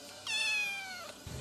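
A cat at an animal shelter gives a single clear, drawn-out meow lasting about a second, close and loud against a quiet background.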